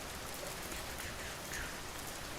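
Steady rain falls in the video game Schedule I, a continuous even hiss of drops on surfaces with no voices, holding at one level throughout.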